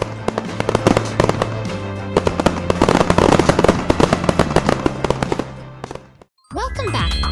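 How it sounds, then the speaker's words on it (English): Fireworks burst in a children's cartoon, a dense rapid crackle of loud pops and bangs for several seconds, then a brief silence before a new musical passage starts. "Fireworks for our puzzle heroes."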